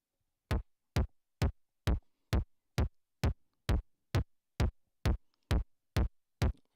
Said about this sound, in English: Now you have a melody sort of within the bass, in the bass drum.